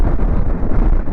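Strong wind on the beach at Dhanushkodi buffets the microphone with a loud, low, rumbling roar that pulses unevenly across a short stretch, with nothing else audible.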